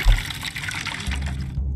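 Water sack being refilled in Skyrim, a steady gurgling liquid pour lasting under two seconds, fairly close and alone without talk.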